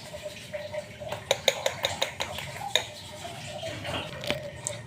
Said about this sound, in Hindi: इसको आपने अच्छे तरीके से फेंटना है